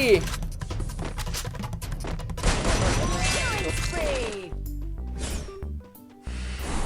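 Rapid bursts of gunfire in the Free Fire battle game, likely from rifles such as the AK, crackling in quick volleys alongside impacts and game effects while a player talks over the action.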